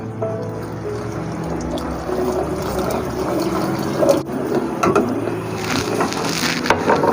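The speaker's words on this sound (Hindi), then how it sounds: "तो नाज़रीन अब हम शामिल करेंगे और साथ साथ दूध को हिलाते भी रहना है।" Milk thickened with custard is stirred steadily in a pot for shahi tukray, giving a continuous close scraping and soft liquid swishing with small knocks, and no talking.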